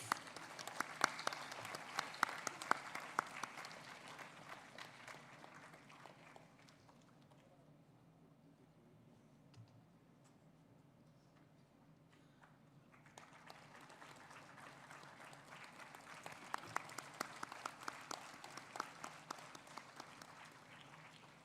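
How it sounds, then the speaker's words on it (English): Audience applause at a start-up conclave, sustained clapping from a crowd that fades to a quiet lull midway, then swells again, steady and moderately distant. "A round of applause, please."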